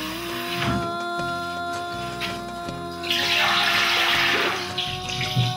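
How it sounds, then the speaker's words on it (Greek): Water runs from a tap into a cooking pot set on a kitchen stove, a steady splashing stream that swells louder midway through, with faint kitchen clatter beneath. "Βάζουμε την κατσαρόλα πάνω στην κουζίνα. Βάζουμε νερό."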